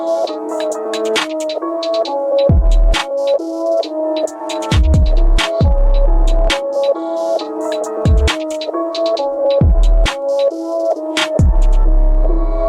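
Trap beat with a mono sub bass under a melody whose low end is cut around 400 hertz, loud and continuous, deep sub hits and booms recurring under the looping midrange melody and crisp hi-hats.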